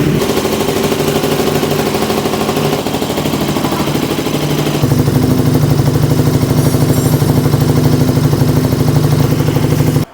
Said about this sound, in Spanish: como estas motos suenan tan fuertes